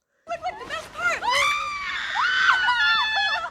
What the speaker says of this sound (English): she screams in either pain or joy, I can't tell